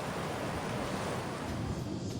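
Water rushes through rapids near a spillway at the Falls of the Ohio, a steady, dense roar close by with a little wind buffeting the microphone.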